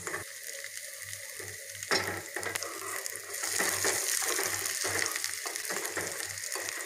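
Fennel seeds, cumin and green chilies roast in a pan for a Jain-style savory daliya fry. A steady, close sizzling hiss rises midway, broken by light stirring scrapes, with a low hum underneath and no talk.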